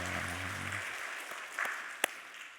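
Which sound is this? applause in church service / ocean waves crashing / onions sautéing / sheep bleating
applause in church service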